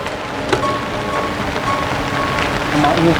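Rain falls steadily, pattering on surfaces as a dense, even hiss with scattered drips, close and moderately loud, while voices talk faintly.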